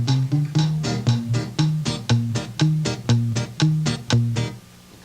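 A bass part overdubbed on top of guitar chords, with low plucked notes moving in a steady pulse under bright strummed chord hits, close and clear with no talk.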